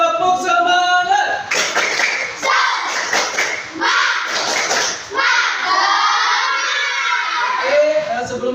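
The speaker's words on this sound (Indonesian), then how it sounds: "Tepuk semangat" Students in a school floor-gymnastics class do a rhythmic group spirit clap, with loud bursts of clapping and shouting from a crowd of children that come in waves, some voices rising above the claps.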